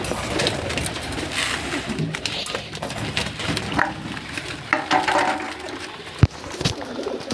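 Pigeons coo softly at night amid a busy, noisy background, with a sharp knock near the end.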